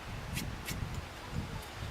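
Wind blowing outdoors across a table saw set up outside, heard as a faint, gusty low rumble that buffets in uneven bursts, with no talking.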